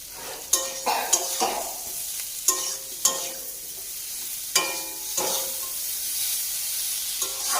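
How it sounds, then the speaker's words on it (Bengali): Puti fish frying in a pan, a steady bright sizzle with sharp spatters and pops at intervals, close and fairly loud with no talk. "রান্না করতে গেলে সাউন্ডটা একটু বেশি হয় কারণ রান্নার একটা নিজস্ব আওয়াজ আছে"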